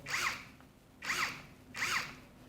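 An ONEVAN cordless drill runs in three short, even bursts about a second apart, each with a whirring motor note rising and falling, with brief quiet gaps between.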